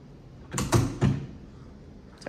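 A front door in a single-story house is pushed shut, a brief muffled thump followed by a second knock a moment later, heard close by with no one talking.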